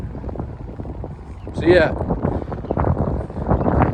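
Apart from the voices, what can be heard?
wind blowing outdoors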